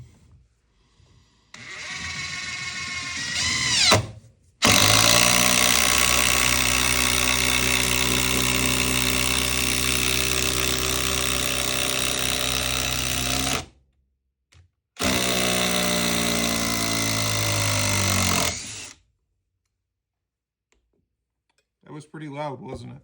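A loud, harsh impact driver drives a timber screw, hammering continuously for several seconds, pausing briefly, then rattling on again, close by and alone, with short whirs around it.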